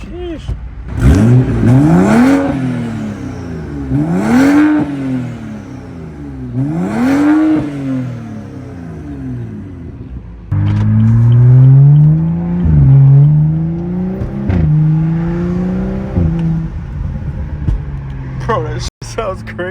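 A 2015 BMW 335i with a catless downpipe, muffler delete and its exhaust flap welded open revs loudly and close several times, rising and falling, then holds a deeper, sustained drone with voices audible around it.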